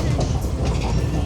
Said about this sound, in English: We're on a little train.